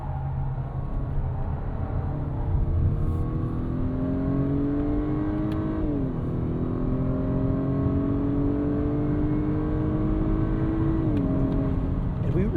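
Acura RDX A-Spec SUV with a turbo K20 engine accelerating through a corner in third gear, a steady droning in-cabin engine tone rising in pitch, dipping briefly at two points, under continuous road rumble.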